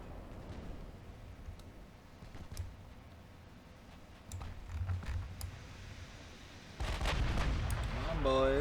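Battleship 6-inch guns firing in the naval game Ultimate Admiral Dreadnoughts: scattered muffled booms and crackling impacts under a low rumble, then a heavier, sustained roar of gunfire toward the end.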